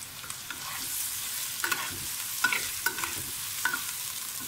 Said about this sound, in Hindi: मिनट हम भूनेंगे लहसुन में चिकन को। इसमें डाल देंगे सारे स्पाइसेस और साथ ही लेमन जूस,